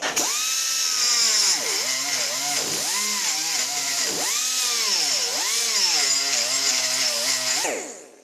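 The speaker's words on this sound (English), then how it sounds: "As you would expect, it's moving aluminium quite effortlessly." A carbide burr in a rotary tool grinds into aluminium with a loud, close, high-pitched whine that dips and rises in pitch as the cutting load changes, then spins down at the end.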